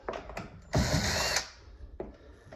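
A power drill backing a stripped screw out of wood, one close, loud burst of motor whine about half a second long, set between quieter handling clicks and no speech.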